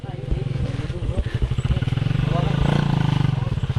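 A motorcycle in a rain-soaked rice field gives off a close, pulsing engine-like rumble that runs steadily throughout, with people talking over it.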